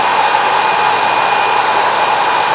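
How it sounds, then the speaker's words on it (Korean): A second 1800-watt high-power hair dryer, running from a pure sine wave inverter, runs continuously with a loud, steady whooshing roar and a faint high whine, close up and unchanging. "그 다음에 두 번째 헤어드라이기 켜겠습니다"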